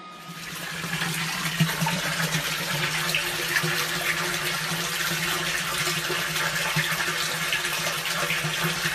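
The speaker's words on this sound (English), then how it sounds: "We've got a great flow of water." Stormwater rushes through an underground drain line from a detention pond under a street into a storm drain, a loud steady gushing flow that holds constant and close throughout.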